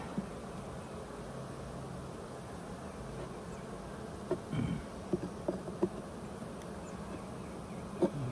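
A steady, dense buzzing of many honeybees fills the air during a hive inspection, with a few louder individual bees passing close by.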